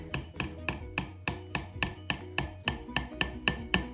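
Metal fork tapping repeatedly against a bowl's side to shake chocolate off an Oreo truffle, about a dozen sharp, evenly spaced clinks in a steady rhythm, close up with no talking.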